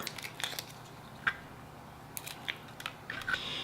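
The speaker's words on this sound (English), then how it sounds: "you're first going to need to peel your shrimp" Shell being peeled off a raw shrimp, a few faint, close, sparse crackling snaps and small wet clicks over a quiet background, no talking.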